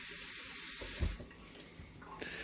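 Tap water runs steadily into a pot of homemade chili on the stove, a rushing stream that breaks off around a second in, followed by a few faint splashes and clinks.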